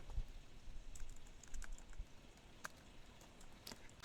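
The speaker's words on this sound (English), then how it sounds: "So here we are going to type a command" A new command is typed on a Mac keyboard in a series of light, sparse key clicks spread at an uneven pace over a soft background hiss, with no talking.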